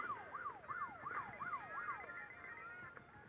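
Repeated rising-and-falling electronic siren wails from an ambulance and a police car in the Hill Climb Racing mobile game, sweeping in a quick steady cycle about five times, then fading out over a low background hum.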